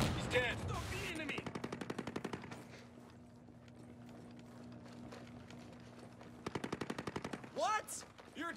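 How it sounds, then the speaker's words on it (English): Rapid automatic gunfire from the Ghost Recon Breakpoint video game, with dense bursts at the start and again near the end and a quieter, sparser stretch between, plus some shouted game voices at the edges. "Shoot those assholes! Shoot them!"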